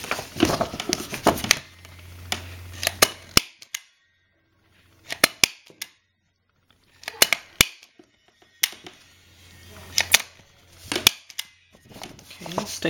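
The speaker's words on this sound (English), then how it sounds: "Okay, I'm gonna staple." Stapler punching through a paper pocket folder, several sharp clicks and snaps in bursts, near and fairly loud with handling rustle between.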